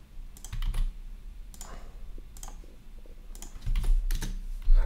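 Fingers typing a Unity project name on a computer keyboard: close, irregular clusters of crisp key clicks with short pauses between bursts and a heavier thump at the end.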